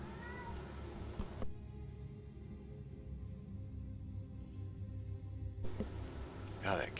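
A cat meows repeatedly in Star Wars: The Old Republic, the calls rising at the start and end over a steady low game ambience and music bed, moderately loud.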